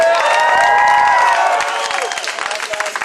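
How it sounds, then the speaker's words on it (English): A large crowd at an abolition march in New York City cheers, whoops and applauds loudly and continuously, the roar easing slightly toward the end with scattered clapping. "Clap it up for Xavier one more time, y'all."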